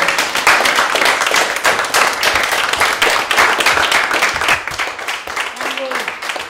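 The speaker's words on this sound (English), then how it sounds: "Give yourselves and each other. Give each other. Round the applause." Loud, sustained applause from a crowd, dense steady clapping that continues throughout with a brief faint tone near the end.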